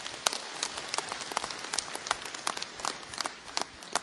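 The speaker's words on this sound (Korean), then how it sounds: "이 두 분께 박수 부탁드리겠습니다" Scattered clapping from a small audience honoring two lawmakers at a book launch event, quiet and sparse, with individual claps spread irregularly through the short stretch.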